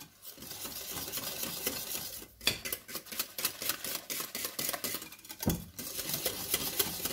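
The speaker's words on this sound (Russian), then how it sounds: "И щепотка соли. Все, и теперь все хорошо перемешиваем." Dough ingredients with a pinch of salt being mixed in a bowl for cherry pies, a close, busy run of rhythmic scraping and tapping strokes with brief pauses.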